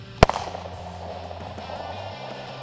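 A single 9mm shot with Critical Duty ammunition is fired into the bone of a chuck roast outdoors, a loud, sharp crack up close followed by a quick echo and a lingering low rumble.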